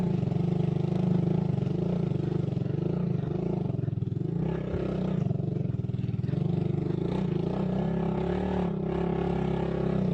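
A motorcycle engine runs steadily near the microphone on a rough trail in Panpanan, San Remigio, Antique, a continuous low droning idle with slight rises in revs, no speech.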